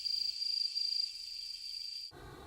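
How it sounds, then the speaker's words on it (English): Meimuna opalifera cicadas stridulating in the Imperial Palace forest in summer: a loud, steady high-pitched buzzing drone with a fast pulsing texture, which cuts off abruptly near the end and gives way to a low rumble. "During the summer, the cicada's stridulations can be heard throughout the forest of the Imperial Palace."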